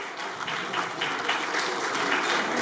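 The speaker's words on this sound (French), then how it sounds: "On les applaudit, mesdames et messieurs." An audience at a family gathering applauds grandparents who have stood up, a continuous wash of clapping from many hands, fairly close and even throughout.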